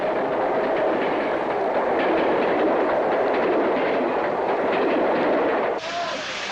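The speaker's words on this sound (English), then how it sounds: "The rush and roar of a passing train filled spectators with awe and wonder." A train roars past up close, a steady loud rush with rhythmic clatter of wheels that shifts slightly near the end.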